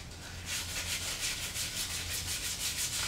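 Sandpaper rubs back and forth over the wooden edge and corner of a Peavey Reactor guitar body, a steady rhythmic scratching that starts after a brief pause and continues close and loud throughout.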